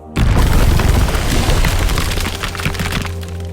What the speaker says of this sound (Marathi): तेवढ्यात बाहेरून कसला तरी स्फोट झाल्याचा आवाज ऐकू आला.